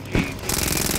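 Rapid SMG fire in the zombie shooter Another Zombie Defence, a short loud stream of evenly spaced shots following a single sharp crack, with a voice faintly present underneath.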